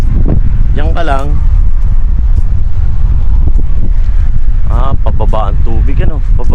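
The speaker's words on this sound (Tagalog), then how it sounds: "Grabe ang hangin no?" Strong wind buffets the microphone with a constant low roar outdoors in Saudi Arabia, while people talk in bursts over it.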